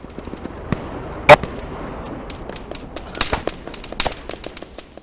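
Scattered gunshots crack at irregular intervals in the game Arma 3 over a constant low background, one sharp report louder than the rest, others quicker and lighter.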